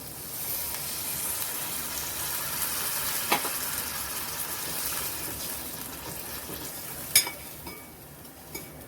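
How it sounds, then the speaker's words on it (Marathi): Water is added to jackfruit curry frying in a pan, producing a soft, continuous sizzle and bubbling with a few small clinks of utensils, quiet and close. "आणि छान याचं अंगापुरतं पाणी घालूया थोडंसं"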